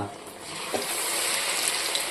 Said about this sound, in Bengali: সুন্দর ভাজা হচ্ছে।